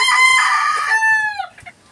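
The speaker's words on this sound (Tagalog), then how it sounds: "Inaalagaan po natin na maayos ang ating mga alagang manok" Pet chickens close by: a rooster gives a loud, clear crow lasting about a second, followed by a few soft clucks.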